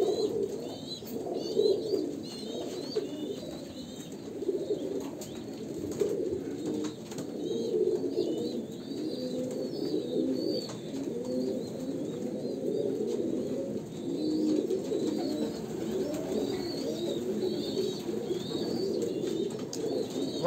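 A female Kalanka pigeon of Andhra pure bloodline gives soft, repeated cooing calls in a steady run, heard close against faint background chirps.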